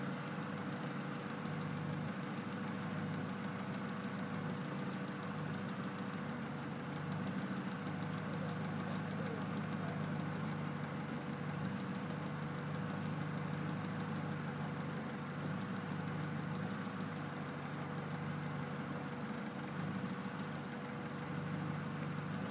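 A 1990–1993 Honda Accord engine idles steadily while the power steering pump is primed, a continuous mid-low hum with a slight rhythmic knock, close and even throughout with no talking.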